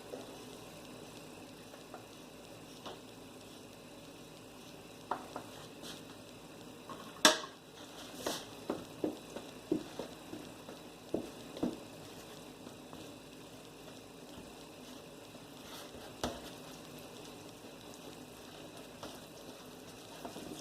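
A wooden spoon working thick brownie batter made of chocolate and flour in a bowl, with faint scraping and a scattered run of soft knocks against the bowl, heard up close and without talk.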